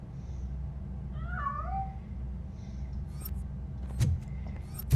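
Cat meows in the RoboCop: Rogue City video game: a short pair of rising and falling mews, moderately near over a steady low hum, followed by faint clicks and a brief thump.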